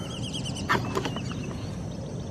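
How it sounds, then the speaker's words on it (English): Several soft, high whistling calls from black-bellied whistling ducks at a distance on a river, repeated in short bursts over steady low background rumble. "Black-bellied whistling ducks."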